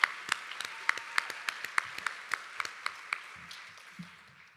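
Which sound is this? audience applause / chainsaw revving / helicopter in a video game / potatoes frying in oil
audience applause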